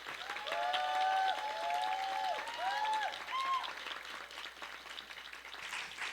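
A church audience at a youth service bursts into loud cheering and applause as the pastor is welcomed, with whoops and shouts over steady clapping that fades slightly toward the end.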